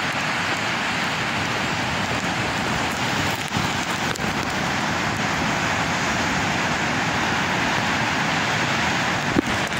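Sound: rain falling

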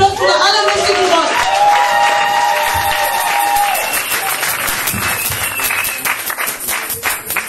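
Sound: big round of applause from the audience

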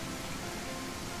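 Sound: rain in the video game Hektor's House

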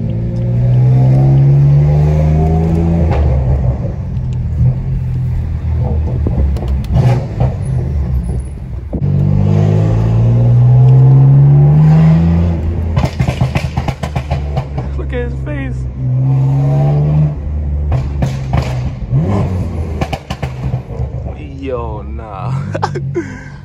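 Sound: tuned car engine revving

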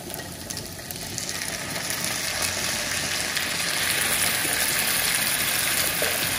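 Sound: calabresa sausage frying in its own fat, no oil

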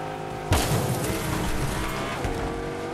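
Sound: car driving in a video game

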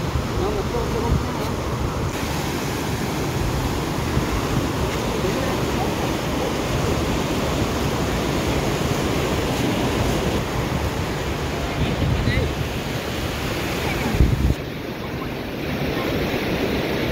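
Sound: sea waves on a beach

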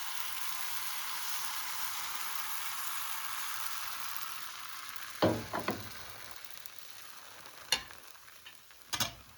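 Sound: pancakes frying in a hot pan

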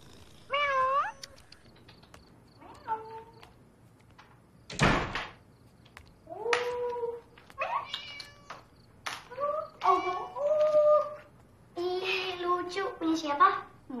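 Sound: cat meowing

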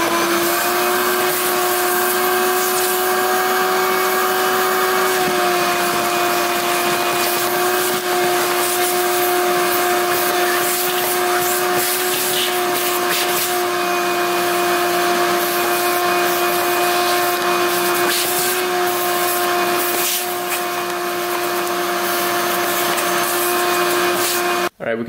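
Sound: vacuum cleaner cleaning out an ATV

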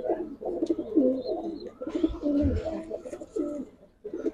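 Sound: male silver Musaldom pigeon cooing

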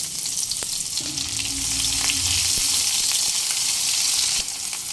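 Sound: nigella seeds and chopped onion frying in mustard oil

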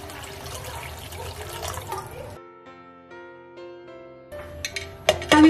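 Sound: water being poured into rice for peas pulao

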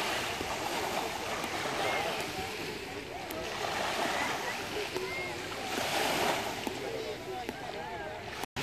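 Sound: sea waves at a beach in Cannes

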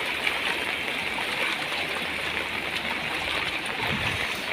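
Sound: floodwater flowing

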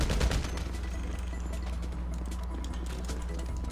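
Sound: gunshots in the video game GTA V

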